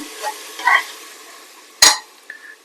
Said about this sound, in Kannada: ಇದನ್ನು ಕೂಡ ಚೆನ್ನಾಗಿ ಫ್ರೈ ಮಾಡ್ಕೊಳ್ಳಿ